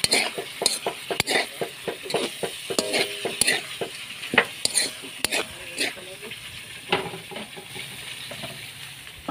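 Adobo cooking in a pan, with a steady frying sizzle under repeated metallic clanks and scrapes of a spoon stirring, irregular and close, while people chat in the background.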